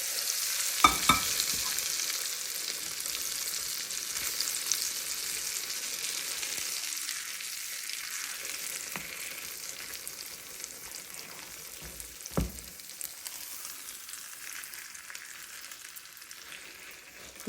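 Onions with chana dal and urad dal frying in hot tempering oil, a steady close sizzle that carries on throughout with a few sharp stirring clatters and no talk.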